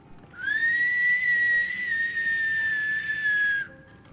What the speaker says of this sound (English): I'm practicing whistling, so how does this sound?